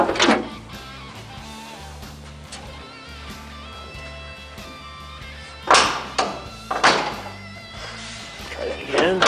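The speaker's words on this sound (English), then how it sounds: "Door seems to open and close pretty good here." The bare shell door of a 1969 Camaro Z28, with no glass fitted, is swung open and shut, giving a few solid thunks and metallic clunks close by, with quiet gaps between them.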